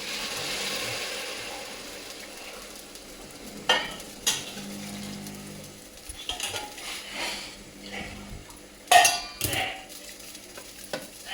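Hot water poured into a hot pot of chicken biryani hisses and sizzles, with metal spoon scrapes and clinks against the pot; no talking.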